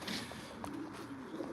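Racing pigeons coo softly inside a loft, low murmuring calls repeating at an even pace against a faint background hiss, with no one talking.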